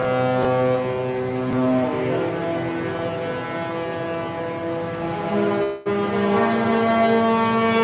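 A cruise ship's deep, loud horn sounds sustained harmonic blasts playing a theme melody from the Sky Princess, continuous for most of the span with a brief gap before resuming.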